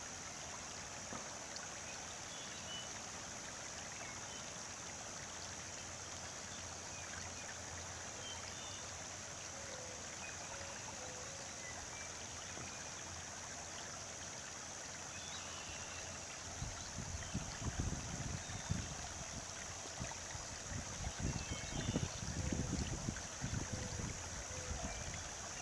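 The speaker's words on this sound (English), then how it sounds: "This water is flowing at a very brisk pace, and it's headed ultimately to the pond" Storm water runoff flows briskly downhill toward an orchard pond, a steady rushing wash that swells and grows rougher and louder in the last several seconds.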